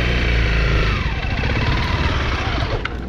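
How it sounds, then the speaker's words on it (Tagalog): A small, underpowered motorcycle engine idles steadily and loud throughout, a constant low rumble with a faint rattle and no clear revving, kept running during a handlebar riding challenge. "Kailangan po kasi hindi namamatay yung makina."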